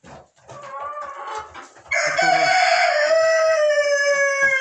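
Hens cluck and squawk up close in a backyard flock, then one bird lets out a long, loud drawn-out call that carries to the end.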